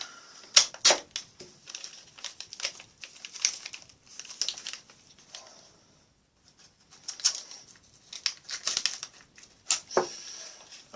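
Russian fuel box packaging is cut and handled, giving sharp intermittent snips, crinkles and scrapes in irregular bursts with short quiet gaps, close and fairly faint.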